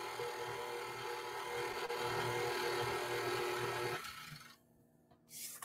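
An electric mixer blends cake batter for a Cookie Monster cake with a steady whirring, rasping drone that runs loud and constant for about four seconds, then cuts off into near silence before a brief return.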